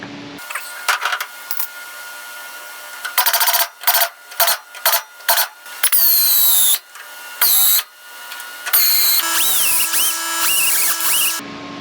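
Loud, close power drill bursts while installing a taillight panel on a Pontiac Firebird: a long whir, then a series of short rapid trigger pulses, followed by longer high-pitched spinning runs.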